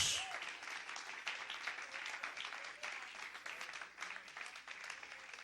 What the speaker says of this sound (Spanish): Dale un aplauso al Señor en esta noche.